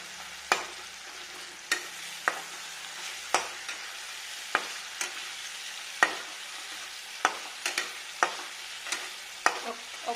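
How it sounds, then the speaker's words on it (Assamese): A utensil scrapes and stirs onion, garlic and tomato frying in a pan, giving about a dozen sharp, irregular strokes over a quiet, faint background sizzle, with no talking. "ইয়াত অকণমান পিঁয়াজ নহৰু আৰু বিলাহী দি পেলাই এনেকৈ লৰাই দিছোঁ"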